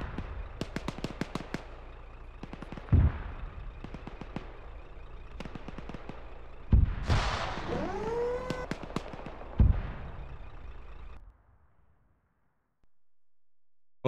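Artillery shells from a repeated fire mission land in a military video game, heavy booms at intervals over a constant engine-like rumble, with one impact trailing a falling whistle, before everything cuts to near silence.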